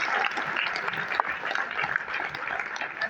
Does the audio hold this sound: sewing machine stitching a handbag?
no